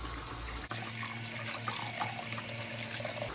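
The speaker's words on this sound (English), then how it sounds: "Now let me go ahead and get finished washing them and I'll be back when I'm done." Fresh blackberries are rinsed under a running faucet in a sink, the steady water stream close and continuous, with a brief dip near the start.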